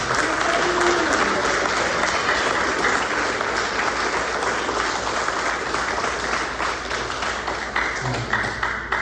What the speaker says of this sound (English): Let's give our seniors a round of applause.